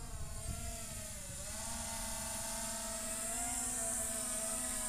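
An SJRC F11 4K Pro drone flies with a steady, close propeller whine and a layered high-pitched motor hum that drifts slightly in pitch, heard continuously with no talking.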